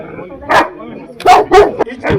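Boerboel puppies about eight months old bark in a rapid series of loud, close yaps, one isolated bark followed by a quick cluster of four, with voices also present.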